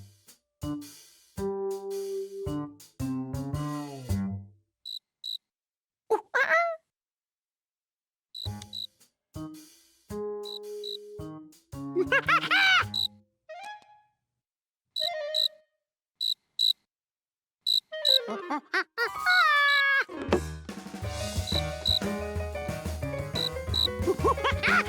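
Cartoon cricket chirps in bursts of high, rhythmic trills alternating with short musical tones and pauses, ending in a denser stretch of layered chirping.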